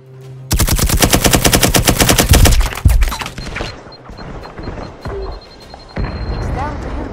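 Rapid automatic gunfire bursts loudly in the online shooter game Firewall: Zero Hour, followed by a heavy grenade blast and scattered shots and debris, with voices talking over the action.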